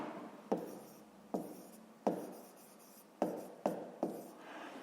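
Handwriting on paper, six distinct pen or chalk strokes each starting with a sharp tap and trailing off into a soft scratch, close and fairly quiet, with no voices.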